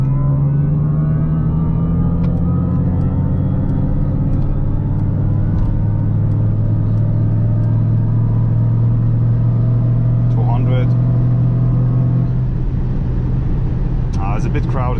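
Mercedes EQS 53 AMG electric sedan cruising on the Autobahn with its synthetic drive sound playing in the cabin, a steady low hum and rising whir with road rumble throughout.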